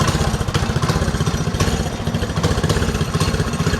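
A mini drift quad's small engine idles steadily nearby, its rapid, throbbing putter holding a constant rhythm with a rattly, buzzing edge throughout.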